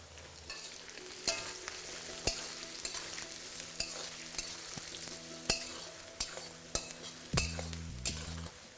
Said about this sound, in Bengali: আমি এখানে 2টো পেঁয়াজকে এইভাবে স্লাইস করে নিয়েছি, যেটাকে আমি আলুর সাথে দিই ভালো করে ভেজে নেব।